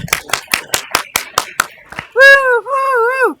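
A run of about nine quick, close hand claps at a school governing board meeting, followed by a voice calling out playful whoops.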